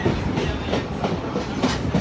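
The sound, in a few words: train riding on Niles Canyon Railway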